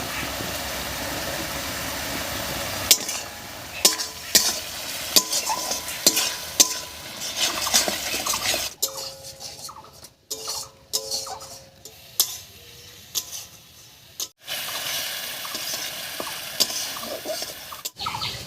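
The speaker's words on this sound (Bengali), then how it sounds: "এবার স্বাদ মতো লবণ দিয়ে মশলাটাকে ভালো করে কষিয়ে নেব" Spice paste of ground coriander, cumin, turmeric and salt being sautéed in a pan for potato curry, a steady sizzle broken by repeated scraping stirs and spoon knocks, close and clear with no talk.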